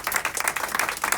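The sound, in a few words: audience applause for a performer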